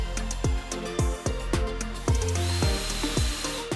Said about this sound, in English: I'm just adding some pocket holes so I can secure them to the underside of the cabinets.